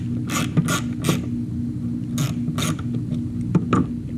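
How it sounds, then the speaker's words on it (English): Tiny 3/16 bolts being loosened from the back of a 2000 C5 Corvette HVAC display, a series of sharp creaking clicks and ratcheting turns spaced irregularly, close and fairly loud. "On the back side we have 4 bolts that I've already started removing. They are 3/16, really tiny."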